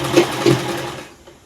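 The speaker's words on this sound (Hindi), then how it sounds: "अब इसकी सिलाई हम डबल कर देंगे ताकि ये जल्दी से उधड़े नहीं।" A sewing machine stitches a suit sleeve in a quick, steady mechanical whir with rhythmic needle pulses, close and fairly loud, running for about a second before stopping.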